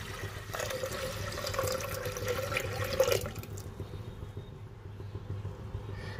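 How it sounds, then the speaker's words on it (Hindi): Water pours steadily into a metal pressure cooker for about three seconds, then stops, leaving a quiet background hum. "अब हम इसमें पानी डालेंगे।"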